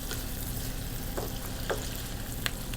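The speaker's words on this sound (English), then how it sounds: "We will stir fry our cheese, our paneer, at least for 5-6 minutes now" Paneer stir-frying in butter with garlic and onion in a pan, a close, continuous crackling sizzle with a few brief scraping stirs.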